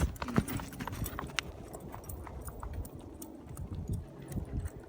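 Hooves of a ridden horse clip-clopping steadily during a groundwork and riding clinic, close and clear with a loose, irregular rhythm over light background noise.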